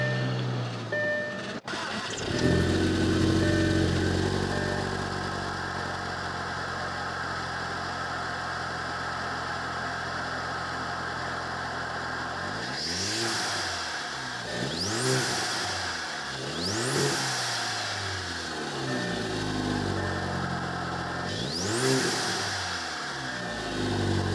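A straight-piped, turbocharged manual car engine idles with a low, throaty rumble, then revs sharply several times in quick bursts, each rise and fall clearly audible up close.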